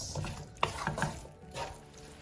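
Spoon stirring chopped boiled eggs through a chickpea and paneer sabji in a pan, a few soft scraping clatters and light sizzling over a short stretch, no talking.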